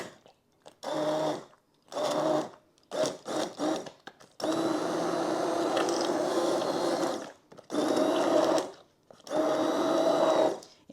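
An immersion blender pureeing apple butter in a pan, whirring in several short bursts and then one long steady run, with brief pauses between them.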